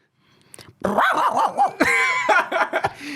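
A man mimics a dog, giving a run of yapping barks and growly whines in quick succession, close and fairly loud.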